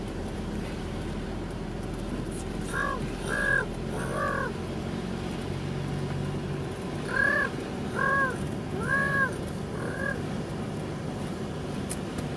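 A boy imitates a bird call with two bursts of three or four short cawing cries, a few seconds apart, over a constant low rumble in a Thai village setting.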